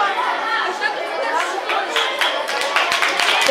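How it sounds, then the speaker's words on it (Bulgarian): Audience at a school Christmas celebration in a hall, with busy chatter throughout and scattered claps that thicken into applause toward the end. "Аплодисменти за всички, които участваха."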